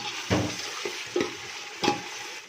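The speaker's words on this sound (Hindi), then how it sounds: "अब जी हम इसमें शामिल करेंगे अदरक और लहसुन का पेस्ट। बिस्मिल्लाह कर लेंगे जी मिक्स और भून लेंगे यहाँ पे" Ginger-garlic paste and tomatoes frying in a pan for a ghiya tori dish, a soft steady sizzle broken by a few louder scrapes and stirs, close by and with no talk.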